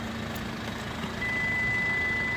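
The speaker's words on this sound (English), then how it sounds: "it will make that sound just to let you know that the key is not in the car" A steady high-pitched electronic key-not-in-car warning tone from a Hyundai Tucson 2.0 CRDi starts partway through and holds, over a constant low vehicle hum.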